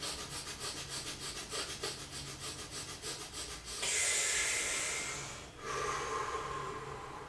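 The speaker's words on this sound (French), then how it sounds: "Bastrika, la respiration du feu, qui, elle, permet de dynamiser complètement son énergie, une respiration assez rapide" Bhastrika breath of fire, a rapid belly breathing exercise: quick rhythmic huffs repeat for several seconds, then give way to a long, loud, sustained exhale and a softer rush of air.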